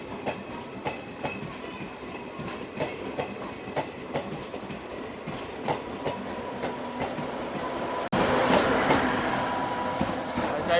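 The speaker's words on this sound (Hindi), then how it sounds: "अभी वेट कर रही थी जोधपुर जैसलमेर DMU ट्रेन" Jodhpur–Jaisalmer DMU diesel train on a single-line section in the Thar Desert, a steady rumble with rhythmic clickety-clack of wheels over rail joints, growing louder and closer near the end.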